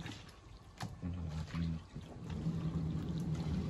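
Water poured into a cooking pot for a home-cooked lunch, a soft, steady trickle and gurgle that builds over a few seconds, quiet and close, with faint background clatter.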